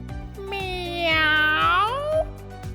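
An animated cat meows once, a long drawn-out cry that rises and then falls, heard clearly over soft background music.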